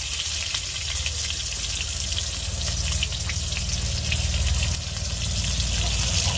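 Cauliflower and silver carp sauté in a pan with salt and turmeric, giving a steady, close, unbroken frying sizzle that holds at an even level throughout with no one speaking.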